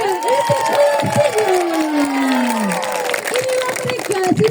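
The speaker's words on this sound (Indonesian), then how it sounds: "Kita beri tepuk tangan yang meriah untuk kelas" School children's class performance event, crowd cheering and clapping with shouts as the class enters the arena, a loud announcer's voice speaking over the noise throughout.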